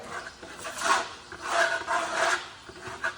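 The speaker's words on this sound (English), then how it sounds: "you would apply the trowel to your wall or your canvas" A trowel rasps and scrapes in repeated strokes, spreading Venetian plaster across a wall surface; the strokes are close and moderately loud, with no talking.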